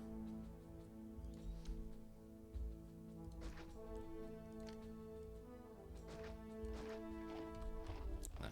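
Horse hooves clip-clop in the Caesar 3 city-building game, a steady light patter of footfalls over looping background music, with a few louder hoof hits standing out.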